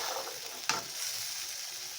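Soaked chickpeas and dried peas hit a pan of fried spice paste for a chickpea-and-pea curry, giving one sharp splash and scrape followed by a steady close sizzle, with no voices.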